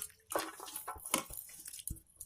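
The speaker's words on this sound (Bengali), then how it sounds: "জলে ধুয়ে নেব" Thinly sliced vegetable peels being rinsed in clean water for village-style pakoras: a couple of seconds of close splashing, dripping and soft wet squishing with a few sharper water splashes.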